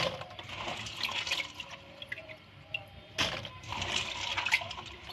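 Water is poured into a cooking pot of fava beans, a steady rushing, splashing flow heard up close with a brief surge partway through.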